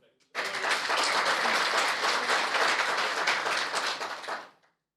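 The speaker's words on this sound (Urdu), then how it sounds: "آپ کے لیے بہت بہت تالیاں" Audience applause for a singer at a public event in Pakistan, a dense, loud burst of clapping that starts abruptly, holds steady for about four seconds, then fades out quickly.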